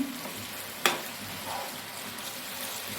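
Palak chicken curry frying in a pan on the stove, giving a steady soft sizzle with a sharp scrape of stirring partway through, close and moderately quiet.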